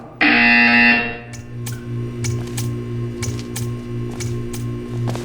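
A loud, harsh electronic buzzer in the video game Portal 2 blares for about a second, then gives way to a low steady hum with faint repeated clicks.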